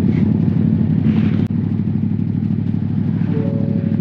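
A motorcycle on a road trip to Pattaya, its engine droning steadily at close range with a brief clatter midway and a rising whine near the end.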